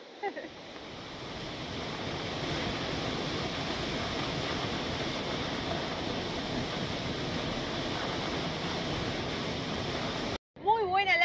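A waterfall in Patagonia roars steadily as a broad, constant rush of water, loud and unbroken for several seconds before cutting off abruptly.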